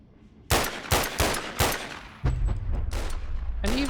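Small pistol fired repeatedly in BONELAB, five sharp close shots at a steady pace, followed by a lower rumbling tail and a brief rising mechanical whine near the end.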